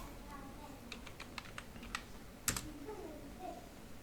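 Quick keystrokes clatter on a computer keyboard as a command is typed into the Windows command prompt, a short run of crisp taps ending in a sharper keypress, close and fairly quiet.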